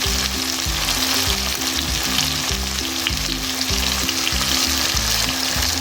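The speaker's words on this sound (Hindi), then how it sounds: "और इसको अच्छी तरह भून लेंगे।" Tomato, onion and ginger-garlic paste fry in ghee for an aloo chicken curry, a loud, steady sizzle with rhythmic scraping of stirring right up close.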